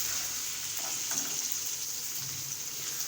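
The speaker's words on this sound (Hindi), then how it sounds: "अदरक लहसुन को हमने इसमें इतना भूनना है कि उसकी स्मेल ख़त्म हो जाए।" Ginger garlic paste frying in a pan over low to medium heat, a steady close hiss and sizzle with faint stirring scrapes, continuous and moderately loud, no talk.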